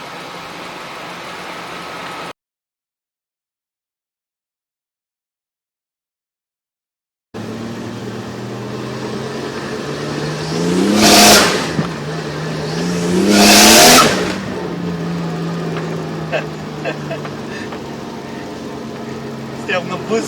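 A Nissan Cefiro A31 with a swapped RB25 engine and a muffled exhaust revs hard twice in close succession, each rise swelling and falling back to a steady, smooth idle, after a brief dropout near the start.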